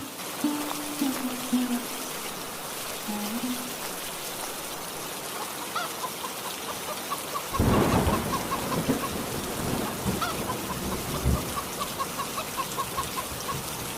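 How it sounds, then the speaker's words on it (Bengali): Steady rain pours throughout, and a deep rumble of thunder rolls in midway, swelling loudly before fading back under the downpour. "এই যা বৃষ্টি যে শুরু হয়ে গেল"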